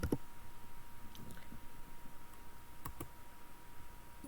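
Computer keyboard typing while entering a number into an Excel spreadsheet cell: a few faint, scattered key clicks over a low room hiss, with no talking.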